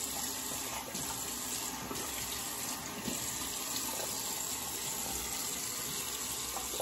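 Tap water runs steadily into a bathroom sink for a rinse after a shave with a Gillette razor, a continuous close splashing flow with no talking.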